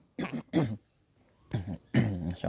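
Several short, harsh coughs in quick bursts, close to the listener, with brief pauses between them and no talking.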